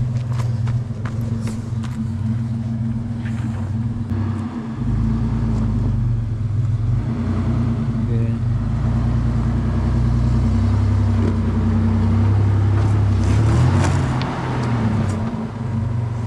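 Overland vehicle engine revving hard and steadily on a rough B.C. trail, its front right wheel spinning, a loud continuous low drone that swells in places, with no talk.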